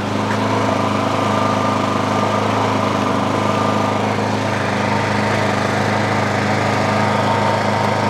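A Craftsman Quiet Technology snow blower engine runs steadily on a driveway, a loud, even drone with a constant low hum and no change in pace or load.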